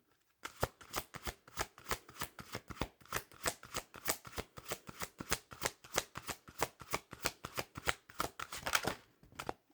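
Oracle cards being shuffled and pulled from the deck, a long run of rapid, crisp riffling clicks and flicks that stays close and steady for nearly ten seconds, with no voices over it.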